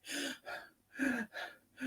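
A voice imitates rapid, nervous breathing: five quick gasping breaths in a steady rhythm, close and fairly quiet, with no talk.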